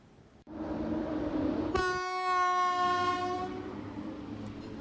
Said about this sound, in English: Poland's newest train service, the Nipizhny, is proving a hit despite having no Wi-Fi, no air conditioning